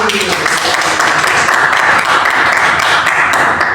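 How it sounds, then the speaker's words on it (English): Applause in a classroom, steady close clapping from many hands sustained throughout at a loud, even level. "Okay, give applause to Mas Abi."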